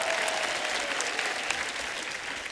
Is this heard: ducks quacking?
no